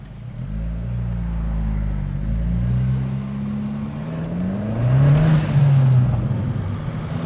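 A Fiat Abarth car engine drones with a low rumble, its pitch sliding up and down as it revs, swelling louder near the end; the sound is close and continuous, with no one talking.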